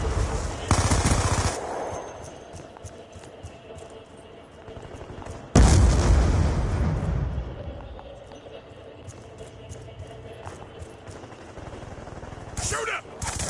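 Rapid automatic gunfire bursts loudly in a Black Ops 2 multiplayer match on PS5, with sharp volleys, booming shots and game voice callouts over continuous battle noise.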